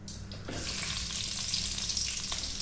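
Chili being added to hot oil in a pan for a chicken dish, giving a steady loud sizzle and frying hiss that holds throughout with slight stirring clatter.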